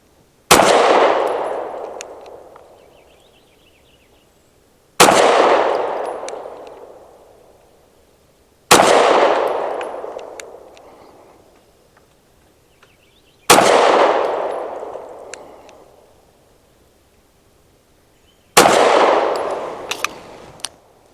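Five single pistol shots from a Tisas PX9 Gen 3 Duty Comp firing PMC Bronze 115 grain rounds, evenly spaced about four seconds apart, each a sharp loud crack with a ringing decay.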